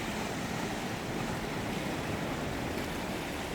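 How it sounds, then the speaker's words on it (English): Ocean waves wash in a steady, even roar of broadband surf noise, continuous and moderately loud, with no distinct breaking crashes or voices. "the sound of the waves"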